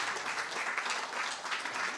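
An audience claps for survivors of 15 October, a steady, fairly full wash of applause at moderate loudness with no voices over it.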